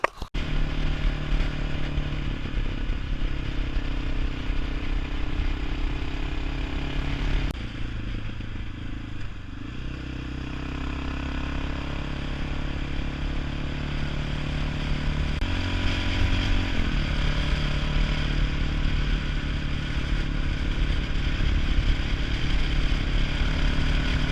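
A Honda XR650L motorcycle with an FMF exhaust pipe runs steadily for a long stretch, its engine droning continuously and fairly loud, with brief changes in pitch as the throttle shifts.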